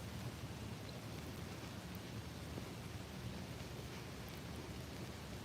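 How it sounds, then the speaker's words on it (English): Steady broadband rumble with rain-like hiss throughout, a low distant thunder roll blending into the wash at a cemetery in Texas; no voices, constant and fairly quiet. "You can probably still hear the thunder."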